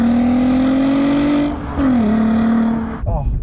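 A Volkswagen Golf R32's 3.2-litre V6 engine revs with a smooth rising drone, dips briefly as it shifts, then climbs again before easing off, loud and close.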